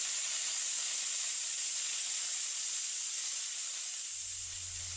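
A steady, loud hiss of escaping steam from the 2-6-2 steam locomotive Northern Rock, built in 1976, runs unbroken throughout, with a low rumble entering near the end.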